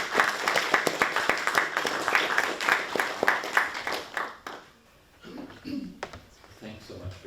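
Applause from an audience at a university conversation event, lively clapping for about four seconds that then stops, followed by quieter room sounds and talking.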